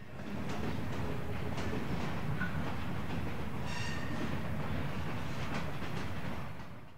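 A log-carrying freight train led by a GP9 locomotive running long hood forward rolls past slowly with a steady rumble and rhythmic clickety-clack of wheels over rail joints, growing in and fading slightly at the end.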